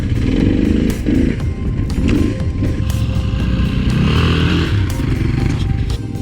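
An adventure motorcycle engine revs and chugs while being ridden slowly trials-style over rough, bumpy terrain, a loud, close, continuous throaty drone with irregular throttle blips and rattles, no talking.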